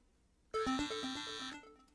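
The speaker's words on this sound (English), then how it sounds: "the brief silence between you is broken by an insistent ringing" A phone rings in the visual novel game Deadly Desires: after a near-silent lead-in, a loud electronic melodic ringtone plays for about a second, stepping through bright tones before cutting off.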